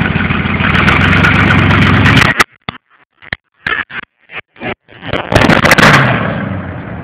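A Ford Bronco with a custom dual exhaust rumbles loudly up close, then the signal cuts out in choppy, distorted bursts before the engine roar returns.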